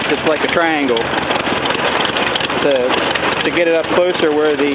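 A Ford tractor engine runs steadily at close range beneath someone talking throughout, its low continuous drone filling the background.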